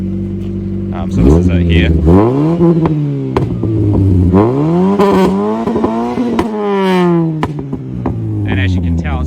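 A Toyota Corolla EE90 with a 2E engine, carb modifications and a Yamaha R1 exhaust tip is revved up and down several times, a loud close rising and falling engine drone, with someone speaking briefly over it.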